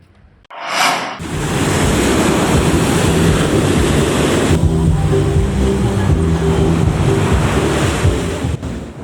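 Heavy surf rolls continuously onto the eroding shore of Cemara Indah beach, a loud, close roar of waves with strong wind buffeting the microphone throughout.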